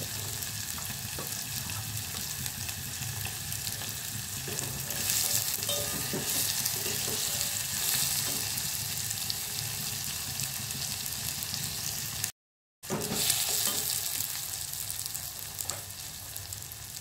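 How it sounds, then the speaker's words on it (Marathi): Continuous sizzling of tomatoes frying in a pan, with occasional stirring scrapes, steady and close, no talking. "आता टमाटर मातशी तळणीशी घेतला. एकूच टमाटर तळले."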